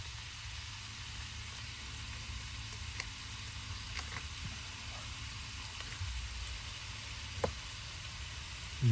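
Beef cooking in a pan inside a van, a faint steady sizzle with soft hiss and occasional small ticks, no voices.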